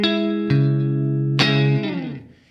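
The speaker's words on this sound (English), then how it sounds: "If you're wanting to use the reverb as an effect on the Strymon," Electric guitar played through a Strymon Iridium amp-sim pedal with its reverb engaged: a sustained chord, a second strum, then a third that rings out into a smooth, fading reverb tail.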